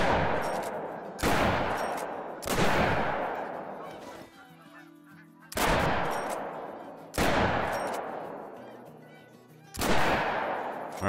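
A 10 gauge shotgun fired in the hunting game theHunter: Call of the Wild, with loud single blasts spaced a second or two apart, each followed by a decaying echo, and geese honking during a lull.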